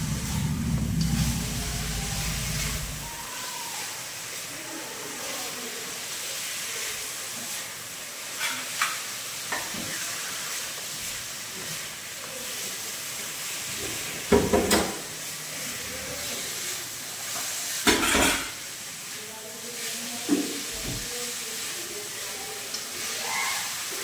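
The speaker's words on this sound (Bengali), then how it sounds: "মটনটা হালকা ভাজা ভাজা শুরু হয়েছে" Mutton pieces fry in a pan with a soft, continuous sizzle and hiss, punctuated by occasional louder scrapes and knocks of stirring, with faint voices in the background.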